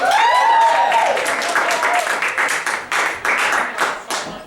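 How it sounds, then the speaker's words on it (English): A cabaret audience claps in a dense burst that fades into scattered, uneven claps, with voices cheering at the start and clapping continuing in choppy waves. "Give yourselves a huge round of applause."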